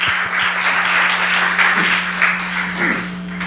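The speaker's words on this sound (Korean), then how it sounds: "박수하겠습니다." Applause during a Korean church prayer service as newcomers are welcomed, a steady, fairly loud wash of many hands clapping together over a constant low electrical hum, with no talk.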